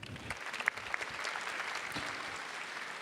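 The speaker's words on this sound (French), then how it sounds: "On peut les applaudir." Audience applause at the close of a plenary e-marketing conference session, a steady wash of many hands clapping at moderate volume, sustained and even throughout.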